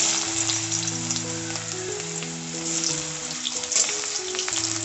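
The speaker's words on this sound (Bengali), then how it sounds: "আলুগুলোকে একটু লাল করে ভেজে নেব।" Potato pieces frying in hot oil with five-spice and green chilli, a steady dense sizzle and crackle close up, with faint background tones and no voices.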